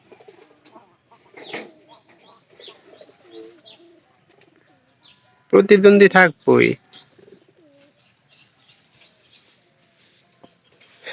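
Domestic pigeons cooing in a loft, soft low coos scattered throughout, with a short loud burst of calls midway and a person speaking briefly.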